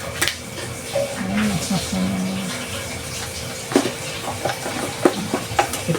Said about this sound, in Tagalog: Okay, prito muna ako ng manok.